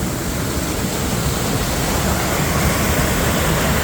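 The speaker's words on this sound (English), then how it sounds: "This is a river." River water flowing steadily near a bridge by an old condemned pump house, a continuous broadband rush without a break, loud and close.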